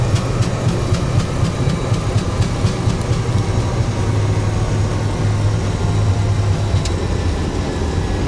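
Airliner engines roar on reverse thrust during a landing rollout at Leonardo da Vinci Airport in X-Plane. A loud, continuous low rumble and whine holds steady throughout, with faint rattling clicks early on.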